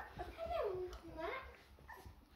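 Puppies whimper close by in a thin, high whine that slides downward and then repeats more faintly, with people talking quietly around them.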